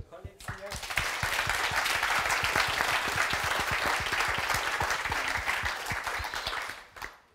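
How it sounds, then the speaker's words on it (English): Session attendees at a clinical trials regulatory meeting applaud their colleagues, clapping that swells after a brief voice, holds steady with distinct individual claps, then fades out. "So big applause to the"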